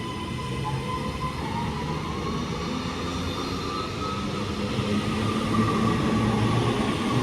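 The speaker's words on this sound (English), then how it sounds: "leaving now is the 11:35 Northern service to Blackpool North from Manchester Airport" Northern electric train pulling away from Manchester Airport on the 11:35 service to Blackpool North, a steady low rumble and motor whine that slowly builds, with no talk.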